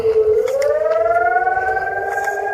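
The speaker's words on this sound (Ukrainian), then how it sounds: "Знову лунає повітряна тривога." An air raid siren in Kharkiv on an evening in August 2025 wails loudly and steadily, its tone sweeping slowly upward and holding, with no speech.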